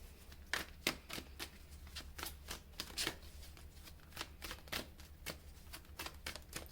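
Tarot cards being shuffled and drawn make quick, soft riffling snaps in an uneven rhythm, close and fairly quiet over a low steady hum, with no talking.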